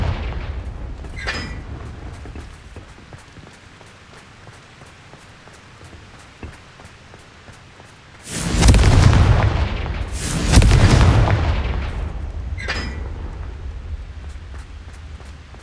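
The Confringo explosive spell in the Hogwarts Legacy video game sounds as two loud, booming blasts in close succession, each with a roaring tail, over a continuous rain-like rumble and a few sharp cracks.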